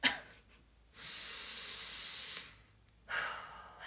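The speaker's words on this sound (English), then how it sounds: "Why don't we take a little deep breath?" A single person takes a slow, deep breath, with a long airy inhale followed by a softer exhale, close and quiet.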